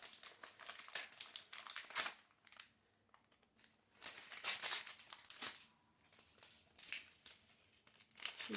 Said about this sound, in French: les bruits de papier, c'est cadeau, mais franchement, ça fait partie du plaisir